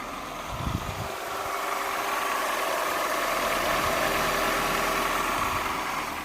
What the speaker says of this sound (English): So we got the engine running, no problems at all.